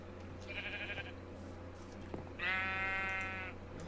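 Sheep bleating in Minecraft, two separate synthetic bleats, a shorter one followed by a longer, louder one, over a steady low background hum with no talk.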